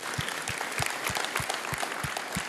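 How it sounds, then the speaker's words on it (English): Audience applause during a church service, a steady patter of many hands clapping with a regular low thump repeating about every third of a second, like a rhythmic beat under the clapping, moderately loud. "Round of applause"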